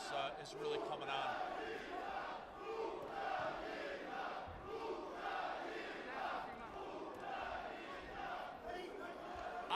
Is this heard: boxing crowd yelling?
yes